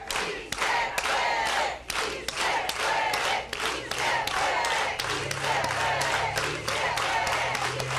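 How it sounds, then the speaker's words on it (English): A crowd at an outdoor peace wall ceremony chants together in unison, punctuated by organized rhythmic hand claps, loud and continuous with voices layered throughout. "We can do it, si se puede, with an organized hand clap."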